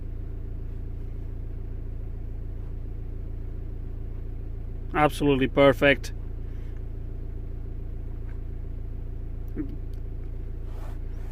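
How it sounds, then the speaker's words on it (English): A Zafira C with a 2.0 CDTI diesel engine runs at a steady, even idle, a constant low drone throughout, with a short burst of talking over it midway. "You can hear the turbo whistling a little bit too much."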